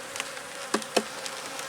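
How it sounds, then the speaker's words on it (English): Honey bees hum at an opened hive, a soft continuous buzz close by with a few faint clicks or taps from frames being handled, no voices. "Oops, sorry bees."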